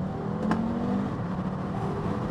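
An Audi RSQ3 quattro SUV with around 400 brake horsepower accelerates hard, a steady engine roar and whir heard from inside the cabin, sustained throughout with a brief sharp click early on.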